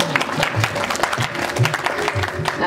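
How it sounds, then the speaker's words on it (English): An audience at a school conference gives a round of applause, a steady patter of claps with a low murmur of background voices running underneath. "I suppose you all need a round of applause for yourself,"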